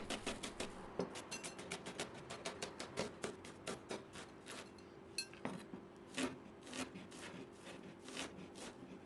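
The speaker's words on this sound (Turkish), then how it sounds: "Şimdi hemen soğanları küçük küçük doğruyorum" Onions are finely chopped with a knife, giving a rapid run of close, crisp taps on a cutting board that slows to spaced strokes partway through, with no talking.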